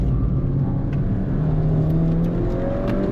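A 2013 Mini Cooper GP engine drones and revs steadily on a race track, recorded close with a continuous loud hum that climbs gradually in pitch as it accelerates.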